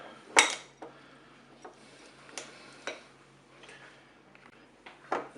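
A spoon mixing grated gruyère with milk in a dish gives sparse, quiet clinks and taps against the bowl at irregular intervals over a near-silent background.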